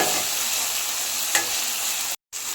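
Okra and tomato sizzle steadily in hot oil as a spoon stirs through the pan, a close, even frying hiss with one sharp scrape midway and a brief dropout near the end.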